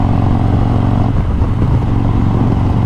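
A 2020 Harley-Davidson Road Glide Special fitted with a 128-inch big bore kit rumbles in a deep, loud, steady idle with a slight lope, close up and unbroken.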